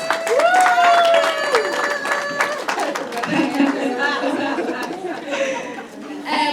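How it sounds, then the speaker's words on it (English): An audience at a summit claps to welcome a guest speaker, a dense wash of hands mixed with crowd chatter and light laughter, with a voice talking over it at the start. "Please give him a round of applause."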